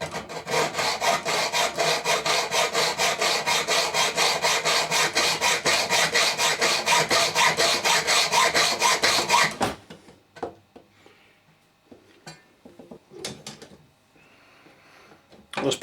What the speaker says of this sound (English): it's often just a lot easier just to cut it using the hacksaw.